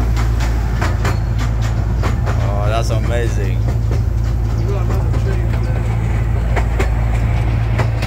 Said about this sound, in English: We're just on a train.